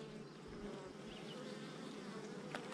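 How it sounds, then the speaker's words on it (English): Inside a beehive, a steady, faint buzzing drone of worker bees hums throughout as a young worker emerges from a brood cell, with no talking. "there's a bee emerging right here"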